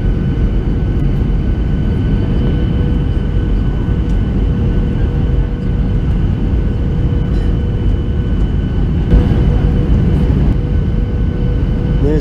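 Airliner cabin roar during the landing approach into an airport, a loud steady low rumble of engines and airflow continuing throughout with a slight rise near the end, no voices.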